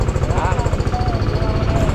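A motorcycle engine chugs steadily nearby in an even rhythm while people talk over it.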